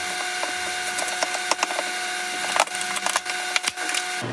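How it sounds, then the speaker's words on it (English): A knife cutting through a butternut squash and a spoon scraping out its seeds, producing dense woody cracking and scratchy scraping sounds, close and fairly loud, with no talking. "you want to cut this in half and scoop all the seeds out and place it on the sheet."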